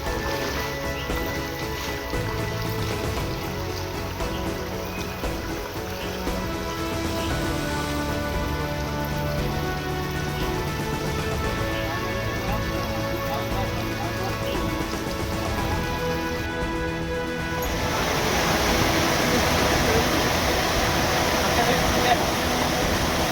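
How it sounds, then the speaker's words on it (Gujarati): Mountain streams swollen by monsoon rain rush between Than Jagir and Dhirnodhar mountain, a steady broad wash of flowing water that grows louder and closer near the end, with voices faintly present. "કેવા સરસ મજાના ઝરણા વહી રહ્યા છે"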